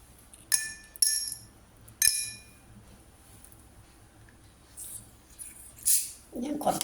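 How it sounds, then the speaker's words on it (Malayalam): A few sharp, ringing glassy clinks about a second apart as ice cubes drop into a glass of lemon mojito, followed by softer rustling and crackling. "ഇനി ഇതിനകത്തേക്ക് നമുക്ക് നാലഞ്ച് ഐസ് ക്യൂബ് ഇടണം"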